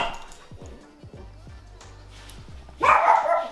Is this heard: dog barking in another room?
yes